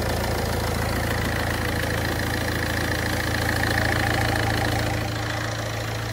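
A Ford Fiesta's engine idles steadily and close, a constant low hum with a faint knocking texture and no talking.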